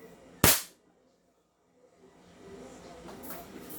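One sharp, close crack from a Glock 17 gas blowback airsoft pistol shot through a chronograph, fading fast into quiet, followed by faint rustling and murmured talk.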